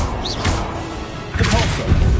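In the Hogwarts Legacy video game, the Confringo blasting curse lands with a burst of heavy thuds and crashing impacts, followed by a second, louder boom with a rumbling low end.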